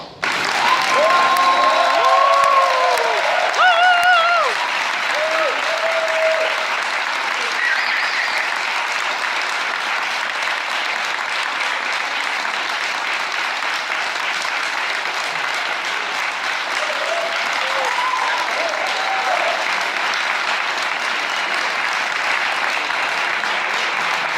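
Sustained audience applause at the Premi Batista i Roca award ceremony, a dense wash of clapping from a large crowd that swells at first and holds steady for over twenty seconds, with a few faint voices and laughter underneath.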